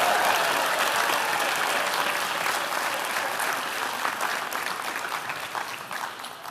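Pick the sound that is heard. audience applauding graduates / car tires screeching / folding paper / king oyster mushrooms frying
audience applauding graduates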